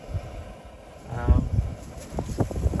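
Wind buffets the microphone in gusty low rumbles while a person talks outdoors on an overcast day on the Texas plains.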